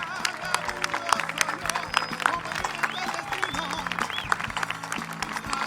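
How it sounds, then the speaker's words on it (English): An outdoor crowd claps through a ribbon-cutting at a Texas sculpture garden's 20th anniversary celebration, with scattered sharp hand claps over steady background voices and tonal sound. "let's give all these artists a round of applause."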